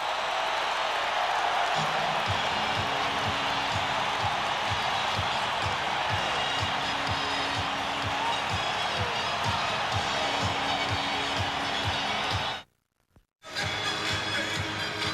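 A basketball arena crowd at a 1994 NBA playoff game between the Jazz and the Spurs roars and cheers steadily, with a dense sustained din and a rhythmic thumping underneath, cutting out briefly near the end.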